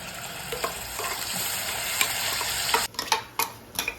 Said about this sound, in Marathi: ही आपली कांदा टोमॅटोची ग्रेव्ही तेलात चांगली परतून घ्यायची